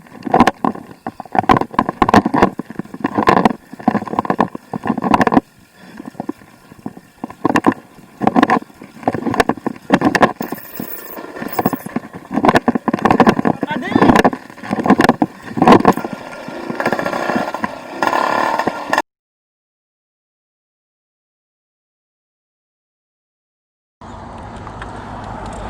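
An AM6 motorbike engine revs on a test ride on thick 26x2.50 Maxxis Hookworm tyres. The loud, pulsing throttle bursts sit under heavy wind rush, then cut to near silence before a quieter engine sound returns.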